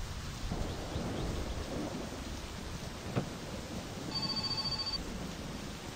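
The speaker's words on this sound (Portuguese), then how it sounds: "A chuva não quer parar" Steady rain in the game My Summer Car pattering with a low rumble of thunder, a brief sharp crackle partway through, and a faint electronic tone near the end.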